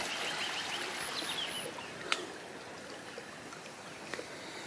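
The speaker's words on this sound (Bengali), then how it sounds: "খালে দেখেন পাথরের পানি সবই জায়গাতে নামতেছে।" Continuous rushing and trickling of rainwater draining from rice paddy fields into a canal, steady and fairly soft, with a few faint bird chirps in the background.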